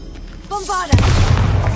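A spoken spell call ends abruptly in a loud, deep boom that rumbles and decays over the next second, a magical Bombarda blast in a Harry Potter game.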